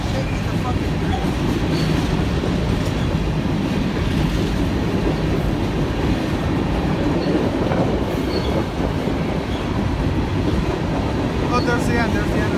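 A long train rolls past close by, a heavy continuous rumble with wheels clacking and a squeal near the end as the last cars go by, while people talk over it.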